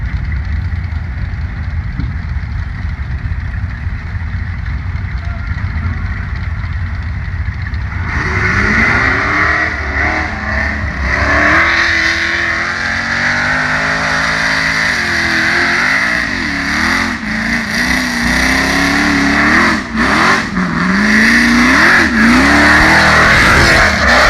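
An off-road racing buggy running on Rockwell axles tears through a hill course, its engine droning loudly and then rising and falling in repeated revving sweeps as it climbs and lands jumps, close and continuous.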